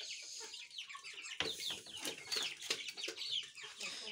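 A group of chickens clucking and chattering together in a busy, overlapping chorus, fairly close, with no voices.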